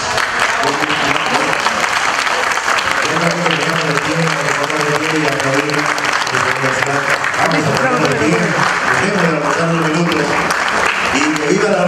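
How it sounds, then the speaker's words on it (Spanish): Crowd applause at a public announcement celebrating the approval of the Universidad de la Provincia de Cañete, a dense, loud wash of clapping with voices shouting and cheering over it throughout. "¡Un fuerte aplauso!"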